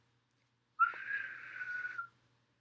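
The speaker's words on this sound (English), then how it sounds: "He blows his whistle again." A camp counselor's whistle gives one steady, fairly faint blast lasting just over a second, preceded by a brief small tap, in otherwise quiet surroundings.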